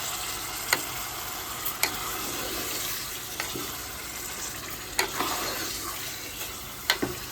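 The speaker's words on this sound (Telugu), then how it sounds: "మటన్ తీసుకున్న తర్వాత ఇట్లా బాగా కలుపుకోవాలి ఆనియన్ అనేది పైకి రావాలి" Mutton and onions stirred in a pot on a village cooking fire, a continuous loud sizzle of frying with occasional sharp clinks of the spoon against the pot, close up and without talking.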